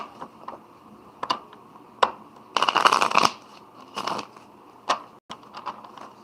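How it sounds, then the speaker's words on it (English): A deck of tarot cards is shuffled close up, quick riffling bursts and soft taps with a longer flurry in the middle, in an otherwise quiet room. "Now let's get a good shuffle and see what else comes out."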